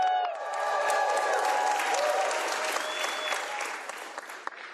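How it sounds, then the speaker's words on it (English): An audience at a governor's bill signing claps steadily in sustained applause, a dense rattle of many hands with a few cheers woven through, fading slightly toward the end. "Give them a big round of applause."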